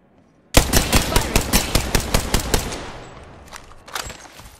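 A burst of automatic gunfire in Apex Legends rattles off around a dozen evenly spaced sharp shots, loud and close, followed by a ringing decay and a few scattered later shots.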